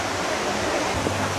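Taytay Falls waterfall in Majayjay, Laguna roars as a steady, dense wash of falling water, loud and continuous with no break, while a crowd of visitors is at the pool.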